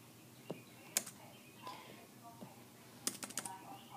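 Typing on a computer keyboard, heard as a few quiet, scattered key clicks with a short burst of taps near the end, set against a low, quiet room background.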